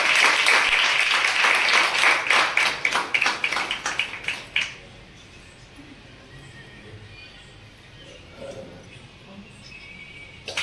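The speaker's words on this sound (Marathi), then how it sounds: "एकदा जोरदार टाळ्यांचा गजर." A loud round of applause at a Swaminarayan temple function, a dense clapping burst for about four seconds that then cuts off, leaving a quiet room with faint voices.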